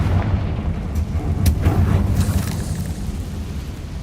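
Confringo fire spell explosion in the video game Hogwarts Legacy, a dense loud rumbling blast with crackling bursts layered over a constant low boom that slowly fades.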